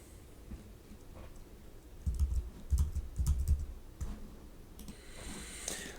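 Typing on a computer keyboard while entering setup commands, with bursts of close key clicks and a few heavier thumps, irregular rhythm, moderately loud with no voices.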